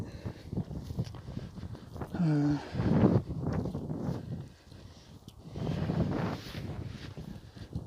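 Wind rises on an outdoor walking trail during a barefoot walk, with moderate gusts rumbling against the microphone in waves, and a brief voice mixed in.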